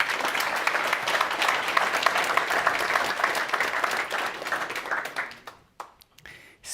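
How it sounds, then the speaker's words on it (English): Conference audience breaks into sustained applause for a guest speaker at a parcel delivery industry event, dense and steady clapping for about five seconds before thinning out and trailing off to a few scattered claps. "Give us Ali an applause, please."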